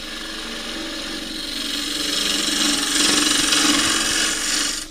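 Lathe gouge cutting into a spinning claret ash bowl blank, a steady, close scraping rasp that swells slightly louder over five seconds with no speech.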